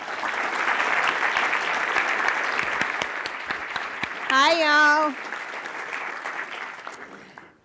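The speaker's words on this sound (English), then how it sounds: "the biggest round of applause" A conference crowd at a Swift developer event in New York applauds steadily and fairly loudly, and the clapping tapers off as a single voice briefly greets the room.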